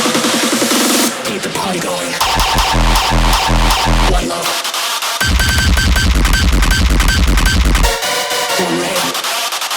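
A hard techno track mixed with a clipper and a limiter pounds loudly, with heavy distorted kicks and dense buzzing synths that drop out in short breaks before slamming back in, and a vocal sample chanting over the top.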